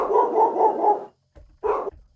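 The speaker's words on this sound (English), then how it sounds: "Doggy." Dog barking sound effect from a percussion and FX sample engine: a quick run of four close, loud barks, a short gap, then a single final bark.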